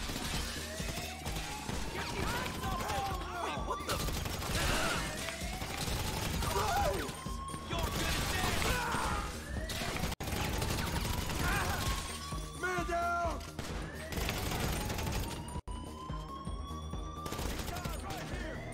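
Rapid gunfire in GTA Online during a stealth casino heist, with repeated bursts and rising whine-like sweeps running continuously under a dense, loud game mix.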